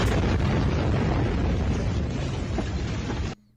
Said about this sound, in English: this is the Beirut explosion